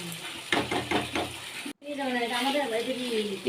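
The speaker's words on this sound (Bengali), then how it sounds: "পাল্টে আমি ভালো করে এটাকে কষে নিচ্ছি" Chicken curry is stirred and fried in a pan, with several scraping stirs and a frying sizzle near the mic, and someone talks over the cooking throughout.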